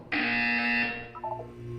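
A loud, harsh electronic buzzer from the video game Portal 2 sounds for about a second, then fades into a lower, wavering tone.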